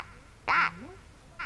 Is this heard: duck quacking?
yes